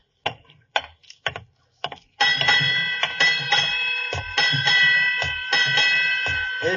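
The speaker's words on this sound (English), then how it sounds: "8 bells." A ship's bell strikes eight bells at midnight in sharp, bright metallic rings that come in quick pairs, the later strokes overlapping into a sustained, ringing shimmer.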